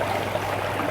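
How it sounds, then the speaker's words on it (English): Running water from a pondless garden water feature makes a steady, even rush and trickle, close and continuous with no voices. "you can have double the amount of wildlife in your garden with the sound of running water"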